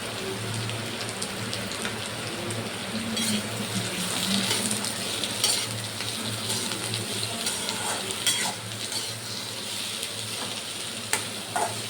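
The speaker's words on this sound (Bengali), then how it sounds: "পেঁয়াজগুলো আমি এর উপরে দিয়ে দিচ্ছি আস্তে আস্তে" Onions going into a hot pan for Bengali peyaj posto, a steady loud sizzle and frying hiss with stirring scrapes and small crackles running throughout, no voices.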